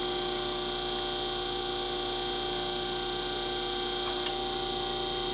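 A hydraulic hose crimping machine working on conductive Teflon hose gives off a loud, steady electrical-mechanical hum that holds unbroken throughout, with only a faint brief tick near the end.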